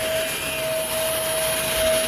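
A commercial carpet-cleaning vacuum runs steadily and loudly, with a constant broadband roar and a thin high whine and no pauses.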